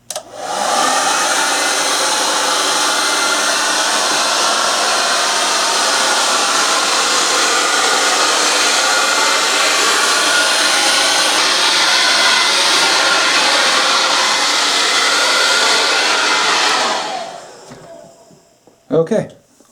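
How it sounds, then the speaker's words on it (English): A hair dryer blows a loud, steady, continuous whoosh while heat-shrinking plastic window insulation film on a drafty window, running evenly for about seventeen seconds before cutting off, followed by a couple of brief handling knocks. "you take a blow dryer and you're going to take an even heat and go all the way around this thing"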